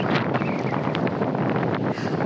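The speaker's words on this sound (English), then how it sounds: "You see, it's windy as heck." Strong wind buffeting the microphone at a snowy roadside winter camp beside an overlanding Jeep with a rooftop tent, a loud steady roar that never lets up.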